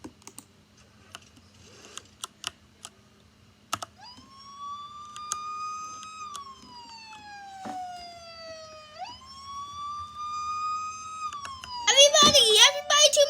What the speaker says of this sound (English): The siren's going off right now.